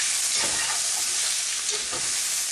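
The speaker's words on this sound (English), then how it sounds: "Right on top of the mushrooms. Give it a stir." Onions stirred into sizzling mushrooms in a hot pan on medium-high heat, a dense continuous frying hiss with soft stirring movements underneath, close and loud, no talking.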